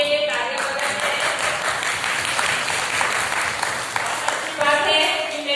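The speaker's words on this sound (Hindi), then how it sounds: "आपके लिए तालियां बजाते हैं" An audience claps and applauds at a preaching session in Don Bosco Kokkar, Ranchi, a dense, steady patter of many hands sustained for several seconds, with voices faintly mixed in.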